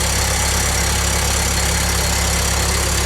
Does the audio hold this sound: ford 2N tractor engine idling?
yes